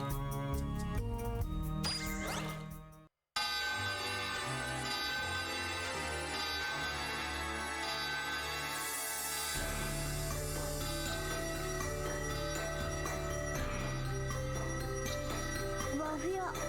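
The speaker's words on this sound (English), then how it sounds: "We just hit this little thing right here, and that rings the bell." A tranquility bell chimes in the video game Klonoa 2, bright ringing tones that ring out over a busy game music bed, with a brief silent gap before the chiming swells and sustains.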